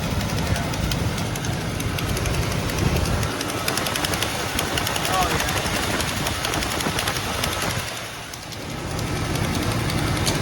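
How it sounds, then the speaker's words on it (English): A 1938 Chevy engine runs with a massive exhaust leak at a bent header: a loud, continuous rough roar with steady rapid pulsing, briefly dipping near the end, as someone speaks a few words over it. "we've got it running, but we've got a massive exhaust leak right there"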